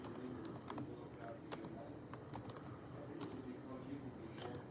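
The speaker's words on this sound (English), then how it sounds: "Y'all know I always gotta type in here." Typing on a computer keyboard with long nails, a steady patter of soft key clicks with a few sharper taps, fairly close in a quiet room under faint background hiss.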